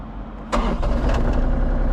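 A Kubota KX033-4 mini excavator's diesel engine cranks and catches, settling into a loud, steady rumbling idle close by.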